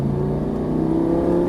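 Lamborghini Gallardo LP550 engine accelerating, a loud, close, steady droning roar with a slowly rising pitch and no voices.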